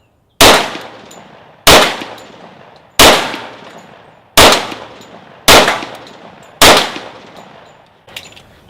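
A 10mm Sig Sauer P220 pistol fires Elite Performance V-Crown rounds: six loud, sharp shots spaced about a second apart, each with a short ringing decay, followed by a seventh fainter impact near the end.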